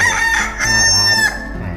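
A rooster crows loudly and close by at a khanom jeen noodle restaurant, one long drawn-out call followed by a shorter tail, standing alone without speech.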